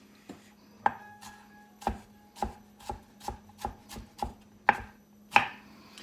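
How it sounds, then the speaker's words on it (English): Strawberries and blueberries chopped on a cutting board, about a dozen crisp knife strikes in a fairly even rhythm, close and distinct with brief quiet gaps between cuts. "chop up the fruit"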